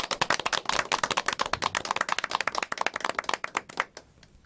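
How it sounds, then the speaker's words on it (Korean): A church congregation claps to welcome a visiting pastor, many hands striking in quick, uneven bursts for about four seconds before the clapping tapers off into quiet. "박수 한번 드리면서 환영해 볼까요?"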